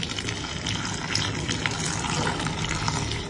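Lukewarm water poured into a bowl for kneading dough in a home kitchen, a steady close gush that runs continuously for a few seconds.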